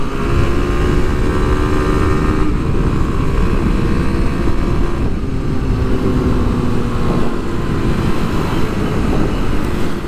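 A 2023 Kawasaki KLX300 SM single-cylinder engine drones loudly and steadily while riding, holding high revs near the limiter with slight pitch shifts and constant wind rush, no speech.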